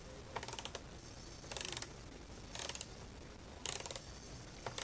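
A socket ratchet clicks in rapid bursts of fine ticking while a fastener on a wooden mantel clock is turned, with about five short bursts evenly spaced and pauses between them.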